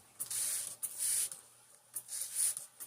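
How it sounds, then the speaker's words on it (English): Neem oil is sprayed onto a potted plant from a hand spray bottle, giving four short hissing bursts with brief pauses between them, close and fairly quiet. "get her sprayed off with my neem oil"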